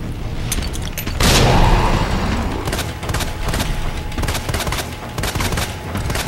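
A grenade goes off in the video game Resident Evil 2 Remake, a loud, close blast that swells into a sustained roar before settling into dense, crackling game noise with rapid clicks and thumps.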